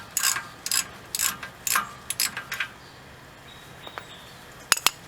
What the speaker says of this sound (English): we're going to use the same 21mm that we used on the lug nut to take the caliper bolts off